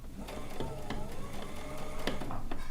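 A domestic sewing machine runs steadily at speed while stitching a tack in free motion quilting, a continuous mechanical whir with faint clicks throughout.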